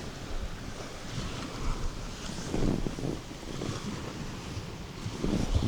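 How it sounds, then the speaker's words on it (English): Strong wind blows across Hanningfield Reservoir in a steady, close roar with microphone buffeting, and choppy waves lap faintly underneath. "It just got so windy, it's unbelievable."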